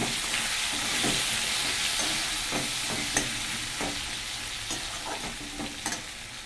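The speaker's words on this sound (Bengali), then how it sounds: "দিয়ে দিচ্ছি 2টো পেঁয়াজ, মানে মাছ অনেক তো। পেঁয়াজগুলো ভেজে নেব।" Chopped onions frying in hot oil with cumin seeds in a pan for a Bengali katla fish curry, a steady close sizzle with occasional stirring clicks and scrapes, no talking.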